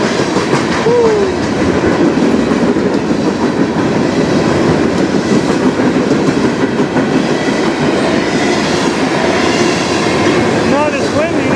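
Loud, continuous roar and clickety-clack of a CN freight train passing at close range on the Strathroy Subdivision, with a brief squeal of wheels near the start and steady rolling noise to the end.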